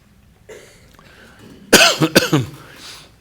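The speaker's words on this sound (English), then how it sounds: "I've been dealing with a cold and a cough, so please excuse that." After a quiet stretch with faint room noise, a close cough from someone with a cold bursts out in a quick cluster of three or four sharp hacks.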